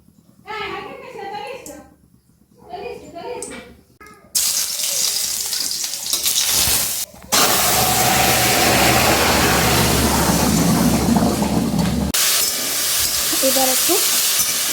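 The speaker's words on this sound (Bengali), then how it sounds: "এই যে শাকটা সেদ্ধ হয়ে গেছে, এবার রসুন দিয়ে ছেঁকে নেব।" Boiled jute greens hit a hot pan tempered with garlic and burst into a loud, sustained sizzle, preceded by someone talking and a brief clatter.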